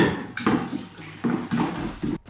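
A white chocolate fondant cake batter being whisked in a bowl: a few close bursts of scraping and tapping against the bowl, with brief pauses between strokes and no talking.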